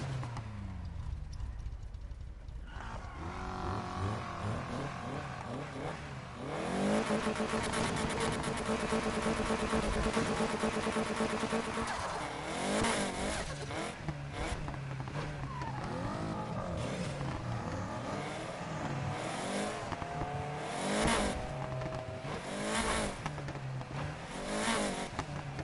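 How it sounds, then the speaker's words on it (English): Lamborghini engine in the racing video game NFS Heat, revving and climbing through the gears in repeated rising sweeps, loud and continuous, with faint tire noise between pulls. "I think the Lamborghini engine sounds the best."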